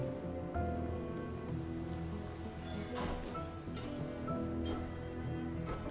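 Ocean waves and surf in the video game Sword of the Sea, a continuous rolling wash of water with swells rising and falling, steady and fairly quiet under faint tonal background music.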